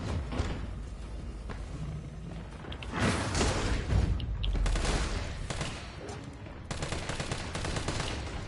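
Gunfire in the video game Resident Evil 3 Nemesis, with bursts of rapid shots and heavier blasts in a shifting, dense sequence of combat sounds.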